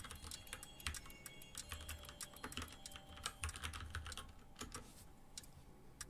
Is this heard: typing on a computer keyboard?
yes